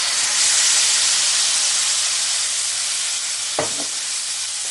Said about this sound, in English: Now I'm also adding the finely chopped tomatoes